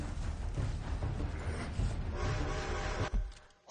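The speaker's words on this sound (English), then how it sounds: "Is the train coming?" A train approaches in a video game, producing a steady, loud rumbling roar with rattling tones that swells and then cuts away abruptly near the end.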